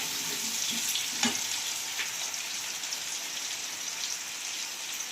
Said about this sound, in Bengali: বৃষ্টি হচ্ছে গো